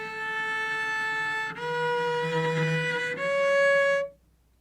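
A cello played in thumb position, bowed too far from the bridge, gives three sustained tones one after another, each with a thin, squeaky edge. The playing is close and clear with no talk, and the last tone ends in a sudden stop.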